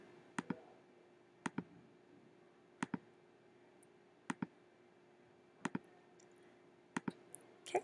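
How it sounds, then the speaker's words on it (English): Computer mouse clicks while retouching an old photo with the Pixlr healing tool, heard as about six quick double clicks spaced evenly over a quiet background hum, close and crisp. "So I'm going to click, click."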